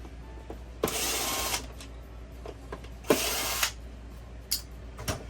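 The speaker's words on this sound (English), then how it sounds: "there's 2 screws up here on top that we also need to remove" A power screwdriver backing out screws from the top cover of a Hoover Spin Scrub carpet shampooer: two fairly loud whirring bursts of about a second each, separated by small clicks and handling taps.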